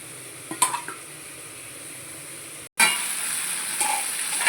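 Chili-soaked water and tamarind go into a pot of hilsa roe sour curry. Light clinks and stirring come first, then a sharp cut and a sudden louder, sustained sizzle as the liquid hits the hot pot.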